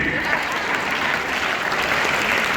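Steady applause from an audience, a dense wash of clapping hands that holds at an even level throughout.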